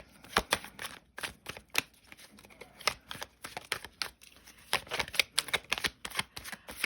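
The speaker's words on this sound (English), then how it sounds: "I'm going to just shuffle out my cards on video for you all" Tarot cards are shuffled by hand in quick bursts of crisp riffling and tapping, close and fairly quiet, with short pauses between flurries.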